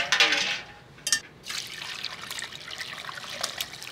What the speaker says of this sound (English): And now strain the broth